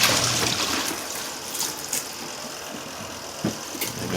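A portable washing machine spinning, giving a steady, close mechanical whir with watery sloshing and a few soft knocks throughout, with no voices.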